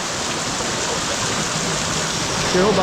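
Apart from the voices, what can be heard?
water running off rock in Bali cave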